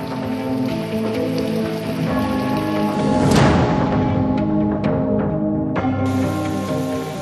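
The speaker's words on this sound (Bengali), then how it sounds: "বৃহস্পতিবার থেকে ঝাড়গ্রামে ভারী বৃষ্টি" Heavy rain falls in Jhargram, a dense continuous patter of drops on surfaces that swells briefly in the middle, heard alone without voices.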